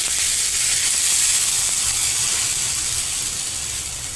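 Spicy pudla batter sizzles in oil on a pan, giving a steady, bright hiss that fills the whole stretch without pause, close and fairly loud with no voices over it.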